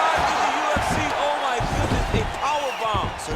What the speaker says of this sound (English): he slams